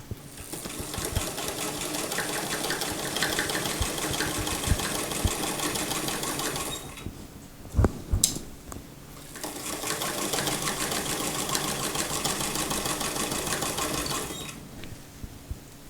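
A sewing machine stitches a dress hem into lace, running in two long, steady bursts of rapid mechanical chatter separated by a pause with a few clicks and handling knocks.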